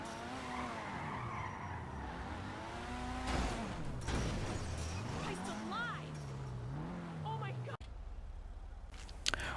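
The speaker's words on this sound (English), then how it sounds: "now we're going to be checking out the top speed of the car and the acceleration" A Pfister 811 sports car in GTA Online accelerates hard on a straight track, its engine note sweeping up and down through gear changes with tire squeal, loud and continuous, ending in a sudden cut.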